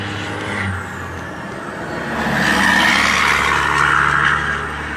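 Heavy trucks roll through a city intersection, engines droning loudly nearby with a hissing air-brake release and tire noise, the rumble building as the vehicles pass.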